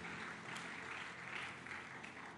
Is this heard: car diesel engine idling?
no